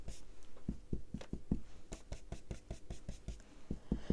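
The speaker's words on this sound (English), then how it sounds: "I'm just lightly tapping it and sweeping the ink onto the card underneath." Quick, light taps of an ink blending tool dabbing onto card, a steady run of about sixteen soft, close-up thuds, each with a brief papery brush, heard alone.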